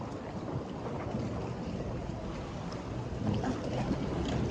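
Boat engine drones steadily over wind and open water during a long ocean ride off the Konkan coast, a continuous rumble that swells slightly toward the end.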